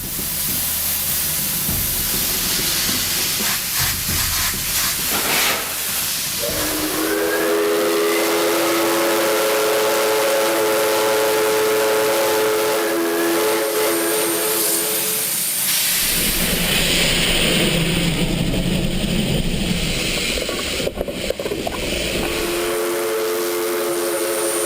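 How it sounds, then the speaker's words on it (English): A steam locomotive in Ecuador sounds its whistle in long, loud blasts over hissing steam and the chugging rumble of the train. "The steam locomotives will lead this final part of the train adventure to the last station of Duran."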